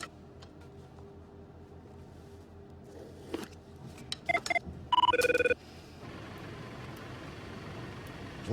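Telephone gives a single short ring burst midway through, heard against a steady low background rumble with a few faint clicks before it.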